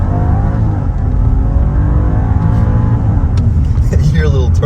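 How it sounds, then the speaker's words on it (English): A 2023 BMW 740i pulls hard under acceleration, its steady engine drone rising in pitch with a faint turbo blow-off hiss near the end, muffled and quiet inside the cabin while a voice talks over it. "You hear a little turbo blow off a little bit"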